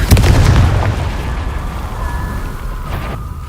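A Confringo blasting spell goes off in one loud, close boom, its heavy low rumble dying away over a few seconds and leaving a thin ringing tone behind.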